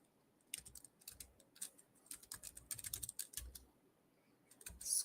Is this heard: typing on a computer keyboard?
yes